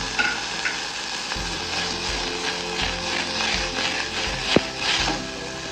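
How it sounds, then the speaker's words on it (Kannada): Sweet corn and capsicum sautéing in a little ghee, with a steady close sizzle broken by repeated spatula scrapes and clacks against the pan and no voices. "ಇನ್ನೊಂದು ಕಡೆ ನಾನು ಸ್ವೀಟ್ ಕಾರ್ನ್ ಮತ್ತು ಕ್ಯಾಪ್ಸಿಕಮ್ನ ಸಾಟೆ ಮಾಡ್ಕೊತಾ ಇದ್ದೀನಿ"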